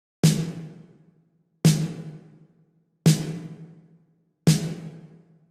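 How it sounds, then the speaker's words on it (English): Four evenly spaced snare drum hits, each with the big but tightly cut-off burst of classic 80s gated reverb. They are punchy and close, with silence between strikes. "And that's that classic 80s gated reverb tone"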